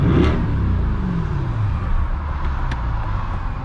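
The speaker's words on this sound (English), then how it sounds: "Get a little baby rev going." A 2021 Chevrolet Corvette C8 engine gives a short rev that rises and falls, then settles into a loud, close, steady rumble heard from inside the car.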